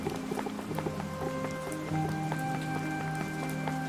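Rain patters steadily across surfaces in the VR game Ravenswood Bluff, a soft continuous spatter with scattered droplet ticks over a low steady hum, fairly quiet and without talking.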